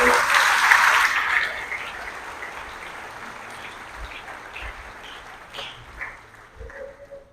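Congregation at a Sunday Mass bursting into loud applause for about two seconds, then fading to a soft murmur of scattered claps and low room noise.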